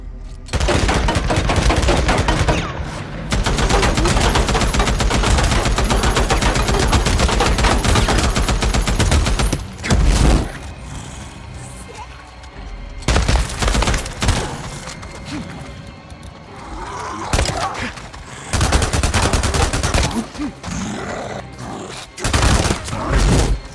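Heavy automatic gunfire rips into a zombie in the video game Days Gone: loud, sustained bursts that pause briefly near the middle, then return in shorter volleys with crashes.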